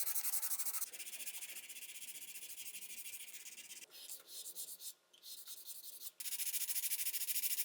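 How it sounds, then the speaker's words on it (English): Sandpaper rubs across a carved olive wood box in steady back-and-forth strokes, a close, dry hissing scrape that pauses briefly midway before resuming. "Now it's time for sanding"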